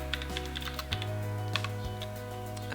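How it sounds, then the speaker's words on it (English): A sentence typed on a computer keyboard during an office software exercise, with a quick, uneven run of light key clicks over a steady low electrical hum. "and then typing the sentence"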